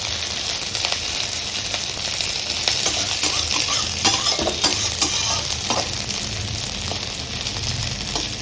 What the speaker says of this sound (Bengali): উচ্ছেগুলো একটু মোটা মোটা করে কাটা হয়ে গেছে, ভাজা হতে সময় লাগবে।